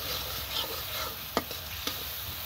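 Spicy masala paste fries in a pan beside pabda fish curry, a steady close sizzle with two sharp scraping stirs of a spoon, no talking.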